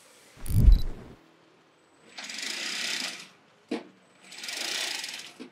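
Sewing machine stitching the top layer of a latex mattress: a thud and clatter at the start, then two sustained whirring runs of stitching separated by a brief click, moderately loud and close.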